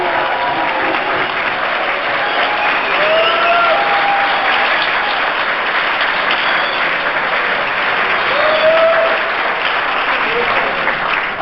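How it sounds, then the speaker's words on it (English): A crowd applauds the ODU football team during an NCAA FCS championship selection show gathering. Loud, continuous clapping fills the whole stretch, with faint cheers and whistles mixed in. "Please join me in a round of applause for our"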